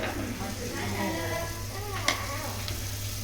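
Chili masala paste hitting hot oil in a pan while cooking Konkani-style chicken, a steady close sizzle and frying crackle with one sharp utensil knock, under a low background hum.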